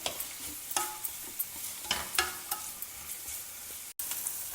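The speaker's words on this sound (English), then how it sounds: "Now slice the onions and add to it. Saute the onions till they become golden." Sliced onions sautéing in about two tablespoons of hot oil in a pan, a steady soft sizzle with a few sharper spatula scrapes and clinks, close by with no talking.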